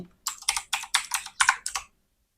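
Keys clatter on a computer keyboard as a search is typed: about seven quick, close bursts of clicking in a steady rhythm, with no talking, before it falls silent.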